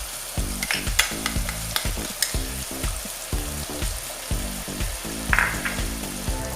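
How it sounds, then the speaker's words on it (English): Cashew nut paste being stirred into a sizzling banana kofta curry in a pan, with rhythmic spoon scraping strokes over a steady low fry, close and moderately quiet. "Now it's time to add the cashew nut paste."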